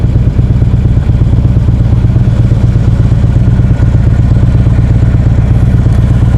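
A Harley-Davidson Road King 1700cc cruiser motorcycle engine rumbles steadily and loudly at close range while riding at night, a deep low throb with a pulsing beat that holds even throughout, no voices.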